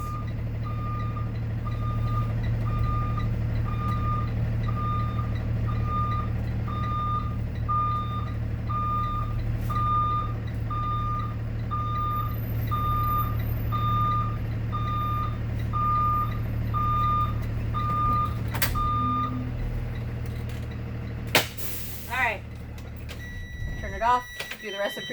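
A training bus backing up, its reversing alarm sounding a steady, evenly spaced series of beeps over a low idling engine hum, then stopping; a few bumps and clatters follow near the end.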